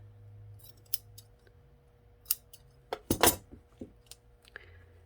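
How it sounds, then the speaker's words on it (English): Scissors snipping the short tail of a small craft bow for a bunny block kit, a few quick close metallic snips clustered together amid light handling clicks and faint background hum. "Cut the tail short."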